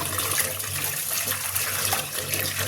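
Tender young bottle gourd greens rinsed under a running kitchen tap: a steady, continuous splash and gush of flowing water close by, with no talking.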